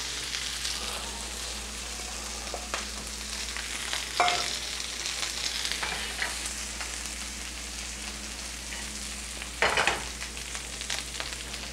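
Green beans fry in a pan with a steady broadband sizzle that holds throughout, broken by a couple of brief louder clanks or stirs, with no talking.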